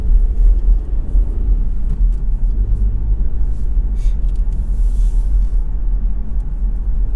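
A car driving on the road during a UK driving test near the Letchworth test centre, its engine rumbling low and steady throughout, close and alone with no talk.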